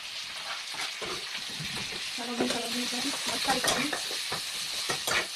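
Onion and chili sizzling in hot oil in a pan, a continuous close frying hiss with stirring scrapes and a faint voice in the background.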